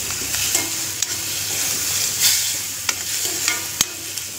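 Prawns with coriander are stirred through masala frying in a pan, a steady sizzle punctuated by scraping and light knocks of the spoon against the pan, close and without voices.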